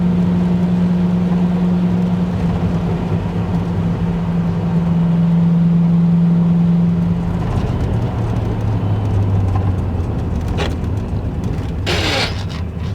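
A 1992 Ford Mustang Fox Body coupe cruising at about 4,200 RPM near 60 mph, a steady loud engine drone with road rumble from inside the cabin, the pitch shifting slightly partway through.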